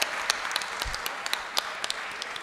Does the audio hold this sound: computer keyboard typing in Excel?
no